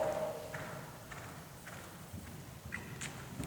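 A horse walks during a riding lesson, its hooves clip-clopping in a slow, even rhythm at moderate distance over a quiet background.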